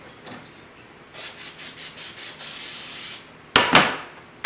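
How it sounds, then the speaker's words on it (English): Short hissing bursts of cooking spray onto a pancake pan, a quick series of pulses followed by a longer continuous spray, then a louder hiss near the end. "we're gonna be spraying our pan for the pancakes"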